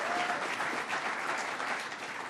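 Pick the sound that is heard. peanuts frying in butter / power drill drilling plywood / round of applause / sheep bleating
round of applause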